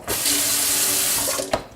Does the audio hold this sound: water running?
yes